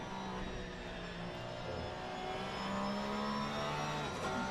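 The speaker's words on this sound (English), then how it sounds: "I just love listening to those Porsches. Just high revs." A Porsche engine in a racing video game holds high revs in a sustained, whining drone, shifting pitch slightly as it climbs, with another car's tone layered beneath.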